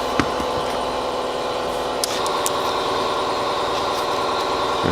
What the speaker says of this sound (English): we're going to switch over to my reversible die grinder.